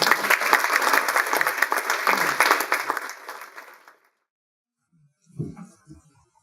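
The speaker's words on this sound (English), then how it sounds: "Give yourself a round of applause." Audience applause at an evening lecture on spiritual and artistic resistance, a dense, loud burst of clapping that fades out after about four seconds, followed by a short low murmur.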